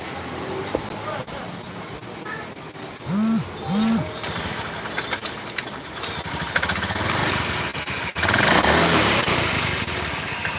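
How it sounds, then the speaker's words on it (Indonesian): A Honda Beat Pop motorcycle with a sputtering, misfiring 'brebeb' fault starts and runs, its close engine putting out an uneven, rough idle with a couple of short rev bursts and a louder surge near the end. "jadi untuk penyakit motor ini berebeb-berebeb, coba kita hidupin"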